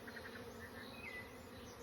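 During a beehive inspection, a steady, dense buzz from many bees fills the air at a low level, continuous with no break and no talking.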